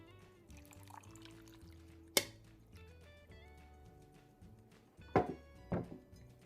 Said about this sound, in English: Now we'll take our pitcher of water and fill it to the top, pouring our water over our fruit.